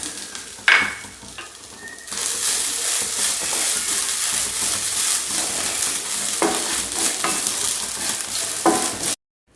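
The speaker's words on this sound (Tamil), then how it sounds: "இப்போது 1 கப்பு தேங்காய் எடுத்திருக்கேன், அதையும் சேர்த்து நல்லா வதக்கிக்கலாம்" One cup of grated coconut is stir-fried with roasted spices in a pan for Chettinad chicken gravy, a continuous close sizzle broken by several sharp scrapes and clinks of a spatula against the pan.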